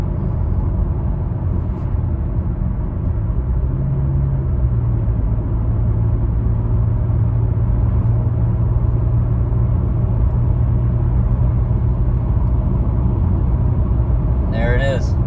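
A 2004 Toyota Camry driving along a road, heard from inside as a steady, loud engine and tire rumble with a faint hum, and someone talking over it.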